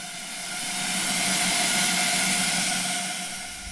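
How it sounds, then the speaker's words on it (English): Steady, loud hiss of steam from a working model steam engine as pressure builds toward 100 psi, a broad rushing noise with faint tonal whine underneath, swelling slightly in the middle and easing toward the end. "I think we can hear the intensity of the steam now."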